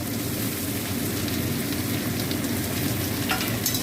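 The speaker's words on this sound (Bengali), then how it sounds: "পেঁয়াজ আর আলু একসঙ্গে ভেজে নেবো।" Potatoes and finely chopped onion fry together in hot oil in a pan for ghugni, giving a steady, close, even sizzle with a few soft stirring scrapes and no talking.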